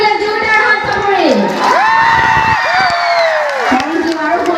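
A large crowd at a central Rongali Bihu festival stage show cheers and claps loudly and steadily, with a voice sounding over the noise throughout.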